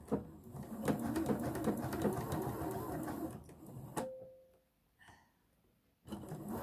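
A sewing machine runs a straight stitch along a bias strip on a neckline, a close rapid whirring that stops partway, leaves a quiet gap with a faint tone, then starts up again briefly.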